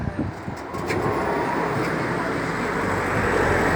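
Highway traffic produces a continuous broadband roar of passing vehicles that grows slightly stronger over the stretch, with faint voices in the background.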